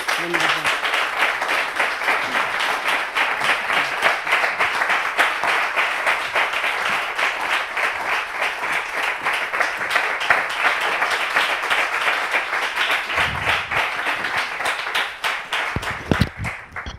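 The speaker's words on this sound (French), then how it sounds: "On l'applaudit, s'il vous plaît." Studio audience on a French television talk show applauding to welcome a guest onto the set, sustained dense clapping filling the whole stretch, with a brief voice near the end.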